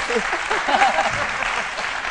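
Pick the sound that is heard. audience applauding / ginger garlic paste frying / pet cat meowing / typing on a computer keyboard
audience applauding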